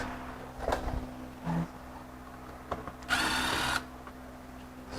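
A power drill backs self-tapping screws out of a bumper support during a BMW E46 M3 teardown, giving a few short close whirring bursts and one longer buzzing run of under a second, with quiet pauses between.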